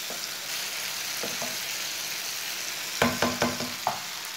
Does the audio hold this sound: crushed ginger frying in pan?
yes